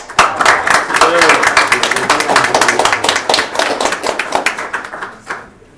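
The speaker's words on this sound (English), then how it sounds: "I just want another round of applause for the Hicks" Steady applause from a city council meeting audience, dense rapid clapping that gradually thins out and fades near the end, with some voices mixed in.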